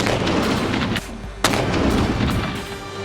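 Repeated heavy firing blasts from an Indonesian-made mortar, dense and continuous with a sharp loud report near the middle, no voices.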